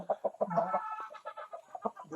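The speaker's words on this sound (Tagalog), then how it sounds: "Maraming manok." Several chickens cluck close by in quick, uneven bursts, loud and clear with no other sounds around them.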